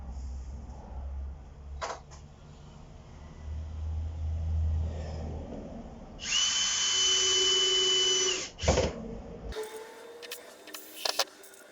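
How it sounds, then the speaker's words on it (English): A power drill driving screws into pallet wood while a five-point star decoration is assembled, with short whirring bursts and one longer, louder high-pitched run followed by clicks and knocks. "So I'm just going to screw it all together."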